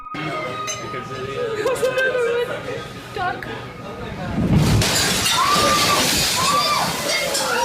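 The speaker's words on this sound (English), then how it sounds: "The water crashes against the window and glass shatters as the spectators scream." Storm waves crash against a restaurant window and the glass shatters with a loud burst of breaking and sloshing water, while spectators scream and chatter throughout.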